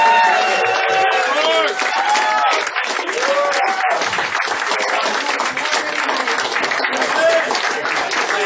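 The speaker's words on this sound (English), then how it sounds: "One more round of applause for Mike Rogers" A crowd at a comedy roast claps and cheers for comedian Mike Rogers, sustained applause mixed with whoops and shouted voices throughout.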